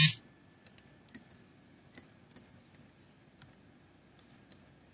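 Close computer keyboard and mouse clicks while copying an object with Ctrl C, with a scattered series of sharp, light taps at irregular intervals over a quiet background.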